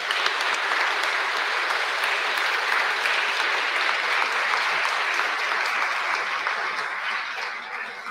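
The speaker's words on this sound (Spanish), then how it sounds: "Un aplauso para ti." Steady, dense applause from a large audience at a human rights award ceremony, an even wash of clapping that holds throughout and tapers slightly at the end.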